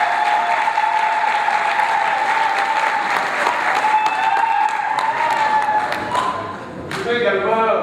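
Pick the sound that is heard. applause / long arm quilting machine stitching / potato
applause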